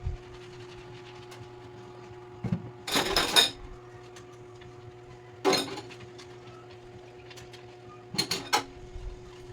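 Plates, pots and utensils clatter in a few separate bursts while dishes are washed by hand in a home kitchen in Quezon Province, with a steady low hum running underneath.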